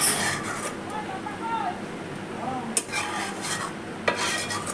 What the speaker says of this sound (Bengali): নামিয়ে রেখে এবার ডালটা সোমবারা দেবো